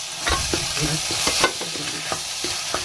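A spoon scrapes and stirs food in a sizzling pan during North Karnataka home cooking, giving irregular close clacks and scrapes over a steady fry hiss.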